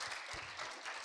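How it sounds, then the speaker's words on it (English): Audience applause at a dissemination event after a panel discussion, a short burst of soft, steady clapping heard from a distance. "please help me to give them a big round of applause"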